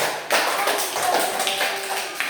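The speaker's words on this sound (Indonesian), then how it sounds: "Kasih tepuk tangan dulu untuk kelompok 3." A classroom of students claps for a student group after its presentation, a dense burst of hand claps starting abruptly and continuing steadily up close for about two seconds.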